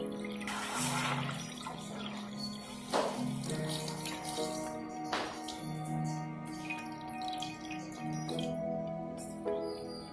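Water pouring from two hoses of different diameters, fed from a container with two holes, into two plates, with a steady close splashing and trickling that runs continuously throughout.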